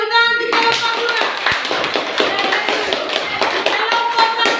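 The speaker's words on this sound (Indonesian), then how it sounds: "Oke, tepuk tangan di kelompok 2." A classroom group breaks into lively applause after a short opening tone, with dense, steady hand clapping that continues throughout at close range.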